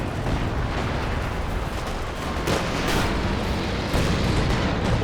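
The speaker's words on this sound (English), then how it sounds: "It is the creeping barrage." Continuous dense barrage of artillery fire from a creeping barrage in the World War II strategy game Company of Heroes 2, a steady loud rumble of overlapping booms with a few sharper blasts standing out.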